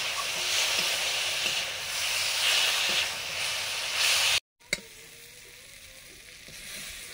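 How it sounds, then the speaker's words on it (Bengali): Elephant apple (chalta) slices frying in hot oil in a home kitchen give a steady, close sizzle that cuts off briefly for a moment, then returns quieter with small pops and hisses. "চালতা ভাজা হয়ে গেছে"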